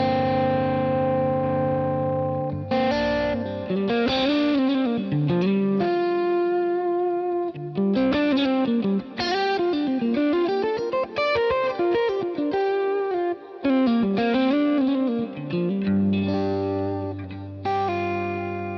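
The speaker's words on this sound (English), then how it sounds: "He's also got a deluxe compressor up here." Electric guitar runs through a Helix deluxe compressor for a clean Dumble-style tone, playing a sustained, singing melodic line with bends and smooth, compressed note decay, alone and fairly loud.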